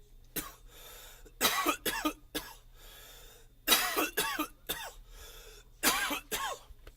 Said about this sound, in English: Mom's gonna be pissed I'm coughing so much.